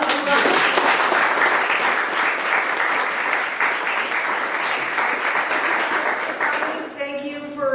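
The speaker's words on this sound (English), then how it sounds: "let's give a round of applause" Sustained audience applause following a talk on living with sharks at a coastal studies center, dense and steady for about seven seconds before fading into a voice speaking at the end.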